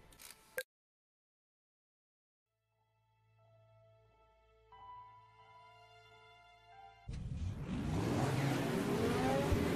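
Race car engines in the Wreckfest video game on a figure-of-eight track hum and build from near silence, rising in pitch, before a loud roaring rush of many cars takes over at the end.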